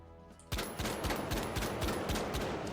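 A video game gun fires in a rapid automatic burst after a brief quiet moment, each shot a sharp, loud crack in a steady fast rhythm.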